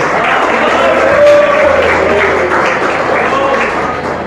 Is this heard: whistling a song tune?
no